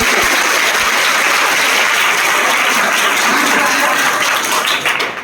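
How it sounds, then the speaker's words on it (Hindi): Students in a classroom at an intermediate college in Varanasi applauding loudly, a dense, continuous burst of close clapping filling the room at full volume, trailing off only slightly at the very end. "एक बार वीडियो के लिए जोरदार ताली।"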